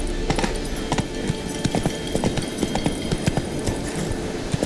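Geralt's horse Roach galloping in The Witcher 3, a quick steady clip-clop of hooves drumming evenly throughout, close and fairly loud.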